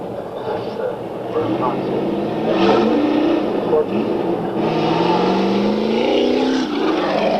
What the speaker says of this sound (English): On the track, cars, X8, 10 cars, heading around the corner, coming up for the start of the race.